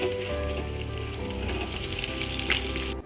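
Potato twister spirals sizzle steadily in hot oil in a pan after being flipped, a dense, continuous crackling fry close up with no talking.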